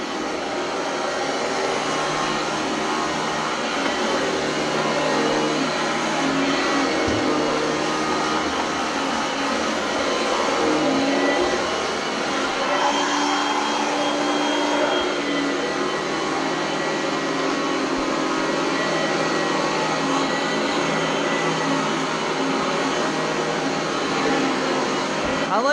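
An Oreck Elevate Conquer vacuum cleaner runs through a whole house with a steady, loud whirring drone that holds evenly throughout with no breaks.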